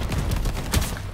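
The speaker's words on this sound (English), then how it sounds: "I shoot you three times with a shotgun" Rapid burst of gunfire in the shooter game Shatterline, several close, punchy shots in quick succession over about a second.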